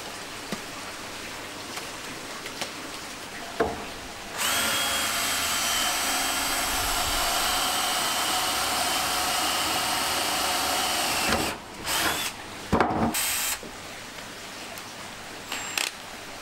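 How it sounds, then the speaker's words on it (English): A power drill runs in one steady, loud whir for several seconds as it drives screws through shelf panels into a beam, with a few short knocks and bursts before and after. "So I'm just going to put two screws through on each panel up the top."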